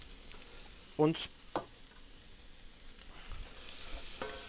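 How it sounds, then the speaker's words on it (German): Onions, garlic, tomatoes and chipotles braising together in a preheated pan for mole poblano: a quiet continuous sizzle with a few sharp stirring clatters early on, briefly under a single spoken word. "lassen das jetzt alles einmal gemeinsam anschmoren. Die Zwiebeln, den Knoblauch, die Tomaten, die Chipotles."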